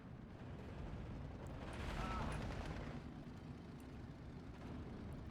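Dense battlefield gunfire and artillery from a Steel Division II World War II tank battle, a continuous rumbling barrage of shots that swells in the middle, with a commentator talking over it.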